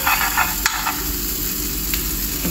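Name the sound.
margarine and bread sizzling in a frying pan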